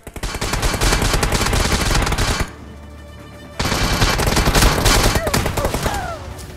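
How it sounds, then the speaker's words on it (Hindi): Gunfire in the battle royale game BGMI, with shots from both right and left at a player near a BRDM vehicle: loud rapid machine-gun bursts, a brief lull, then sustained automatic fire resuming. "राइट साइड से एक बंदा मेरे ऊपर फायर लेता है और लेफ्ट साइड से एक और बंदा फायर लेता है"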